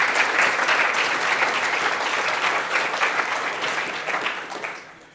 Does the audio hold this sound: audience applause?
yes